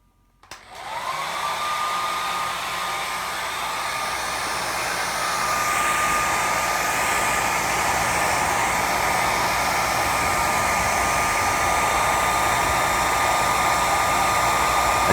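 A handheld blow dryer blows hot air steadily at close range onto dinged-up cardboard boxes for early Atari, Odyssey 2 and Intellivision games. A constant loud whirring roar with a high whine runs continuously and alone, with no talking.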